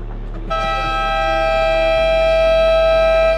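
A loud, sustained electronic buzzer horn at a basketball game blares steadily for about three seconds, a flat, piercing tone starting abruptly with no pause.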